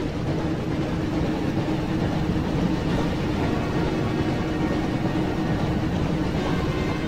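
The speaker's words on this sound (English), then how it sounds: "Looks like we found the train, Ron." A steady, heavy train rumble in the PS1 game Harry Potter and the Chamber of Secrets, with dense low-end roar and rattling texture, continuous and loud throughout, no voices.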